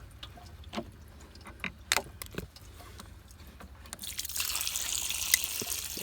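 An above-ground pool pump drips a few times after its drain nut is removed, then water starts pouring out in a steady hiss over the last seconds.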